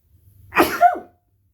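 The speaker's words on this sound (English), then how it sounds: "I gotta sneeze real quick." A single sharp human sneeze, preceded by a soft intake of breath and ending quickly, close to the microphone.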